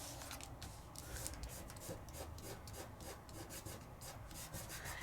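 Microfine glitter burnished over a layering stencil, giving a close, quiet, steady rubbing scratch in quick back-and-forth strokes, dry and rasping, with no voices.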